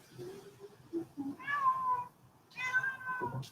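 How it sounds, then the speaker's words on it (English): A house cat meows twice, two drawn-out, moderately close calls separated by a short pause, over low background noise. "It's my cat."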